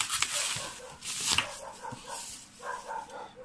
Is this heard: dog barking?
yes